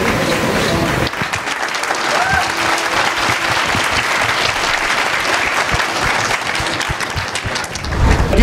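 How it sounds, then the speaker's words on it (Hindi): An audience at a Chicandigarh University music and film festival event claps loudly and continuously for several seconds, a dense, sustained round of applause that swells slightly at the end. "एक बार जोरदार तालियां हो जाए"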